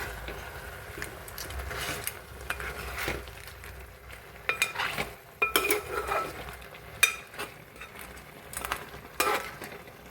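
A utensil stirs crab coconut milk curry in a pan with irregular scrapes and metallic clinks. A soft simmering sizzle runs underneath, fairly quiet and close.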